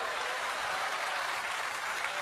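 A church congregation applauds during a worship service, a dense, even wash of many hands clapping without a break through the whole stretch.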